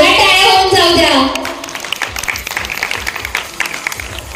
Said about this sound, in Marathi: जोरात टाळ्या होऊन जाऊ द्या